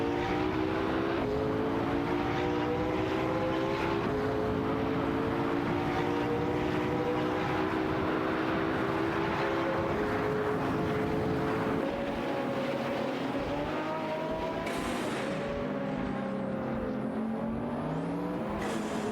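Engines of a Lamborghini Huracan and a Pagani Zonda in an AI racing video game, a continuous droning whine that slides up and down in pitch as the cars shift and accelerate, with no talking.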